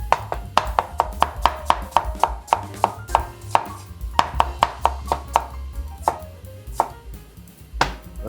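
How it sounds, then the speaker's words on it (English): A knife chops spring onion on a board, a rapid run of close, crisp thuds that breaks into slower, scattered cuts toward the end. "spring onion. Couple of slices like that will do."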